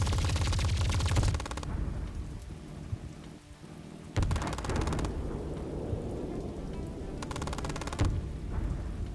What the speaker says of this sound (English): Oh, there's also a machine gun thing?